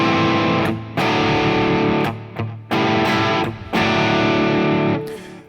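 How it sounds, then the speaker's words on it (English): Distorted electric guitar played in a dramatic blues style, picked hard so the tone grows thick and saturated, loud chords and bent notes ringing with brief gaps between the phrases. "The harder you attack, the more distortion comes out."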